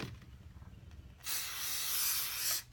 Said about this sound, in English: Take my Loctite spray adhesive, which is good for bonding.